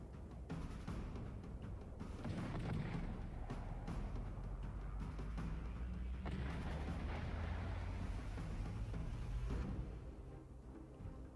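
Naval gunfire from warships in World of Warships, a dense sustained roar of heavy cannon blasts and booming explosions rolling together for about ten seconds before easing off, loud and continuous with no clear gaps.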